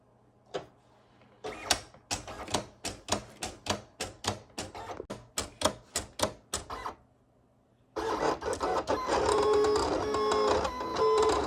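A vinyl cutting machine cuts a T-shirt design, giving a run of sharp, evenly spaced clicking and tapping strokes, then a steady whirring motor sound near the end, close by with no voices.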